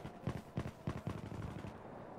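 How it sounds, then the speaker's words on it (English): Automatic weapon fire in Battlefield 4 on PS4 multiplayer, a quick string of four or five muffled bursts then a fading tail, fairly soft and distant-sounding. "I'm missing a lot of my shots."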